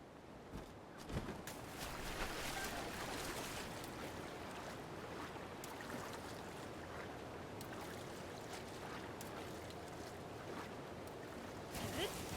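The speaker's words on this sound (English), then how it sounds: "Oh, there's another waterfall right here." Steady rushing waterfall in the Zelda: Breath of the Wild video game, a continuous broadband wash of falling water at moderate level throughout, with no voice over it.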